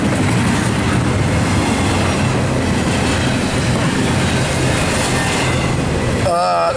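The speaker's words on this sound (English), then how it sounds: "That's a bad bearing, I think." Loud, continuous grinding rumble of a train with a bad bearing on rails, a harsh metallic roar throughout, ending in a brief squeal.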